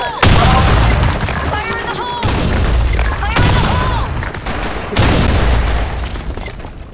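Gunfire and blasts from a grenade in the online shooter Blackshot, loud and dense, with three sharp onsets followed by rolling explosive bursts and players shouting over the action.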